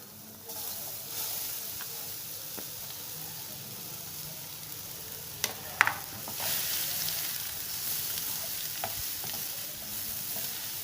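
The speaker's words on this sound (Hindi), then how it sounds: "इसमें सबसे पहले हम जो क्रश की हुई गाजर है वो डालेंगे" Crushed carrots for a chicken samosa filling fry in a pan with a steady soft sizzle and hiss, broken by a few faint scrapes and clinks of stirring, with no voice.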